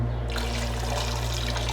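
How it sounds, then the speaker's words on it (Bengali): Water pours steadily into a pot of spiced chicken being cooked for rice, making a continuous close trickling splash over a low steady hum. "আমরা এখন পানি দিয়ে দিয়েছি"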